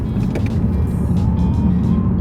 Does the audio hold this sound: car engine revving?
yes